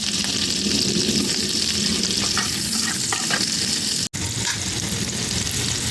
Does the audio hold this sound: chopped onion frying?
yes